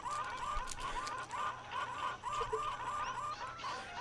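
Chickens cluck steadily in the Zoo Tycoon 2 video game, a dense, continuous flock of repeated clucks and squawks carrying on without pause, fairly loud and with no voices over them.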